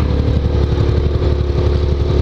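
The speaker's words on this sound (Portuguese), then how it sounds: "Ai, como tá fazendo barulho bonito a XJ." Yamaha XJ6 motorcycle with an aftermarket exhaust, its engine droning loud and close with a rapid pulsing throb and slight swells in revs, no voices over it.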